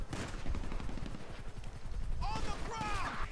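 Rapid gunfire in the video game GTA V, a burst of repeated sharp shots fairly close, followed by someone speaking excitedly over continuing game noise.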